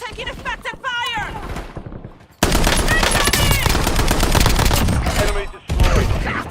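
Rapid machine-gun fire in a shooter video game, a dense sustained burst that fills most of the clip, loud and close, with a short pause near the end before it resumes; game voices speak over the start.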